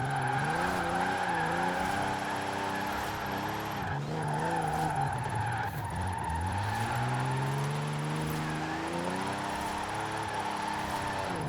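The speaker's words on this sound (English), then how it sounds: "right now I'm flooring it in third gear and I can't even redline it" A Toyota is floored in third gear in Forza Horizon 4, its engine droning and sweeping upward without reaching redline, with brief squeals from the tyres and a steady, close game-audio mix.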